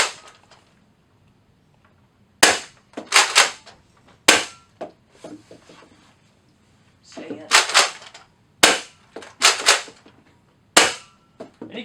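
A Nerf Rival Apollo blaster firing 12-round magazine shots at a range, sharp loud cracks coming singly and in quick bursts with pauses between, faint talking underneath.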